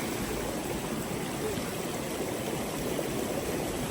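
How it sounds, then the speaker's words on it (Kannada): A waterfall stream rushes over a water crossing on a hill trek, a steady, dense roar of flowing water that stays constant and close throughout with no voices. "ಇನ್ನೊಂದು ಫಾಲ್ಸ್ ವಾಟರ್ ಕ್ರಾಸಿಂಗ್ ಬಂತು ನೋಡಿ."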